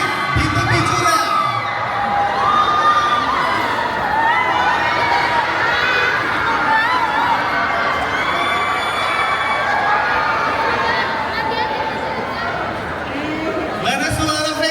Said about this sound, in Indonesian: Beri tepuk tangan untuk kedua berikutnya cast dari Bunga di Tepi Jurang.